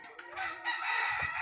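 A fighting cock, a fine-bred rooster, crows once in a strong, drawn-out call that rings clearly and close, with faint background noise beneath it.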